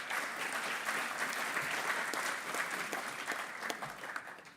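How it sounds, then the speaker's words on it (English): Audience applause at an embedded-systems conference, a sustained wash of many hands clapping at moderate distance, steady throughout and tapering slightly at the end. "a round of applause for them"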